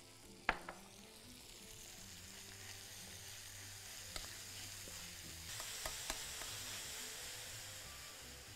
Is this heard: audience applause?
no